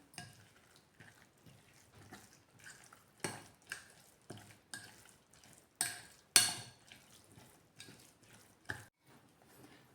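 Cooled oil stirred into chopped green chili and ginger in a bowl, with a spoon clinking and scraping in a steady series of short knocks, close and moderately loud, no voices.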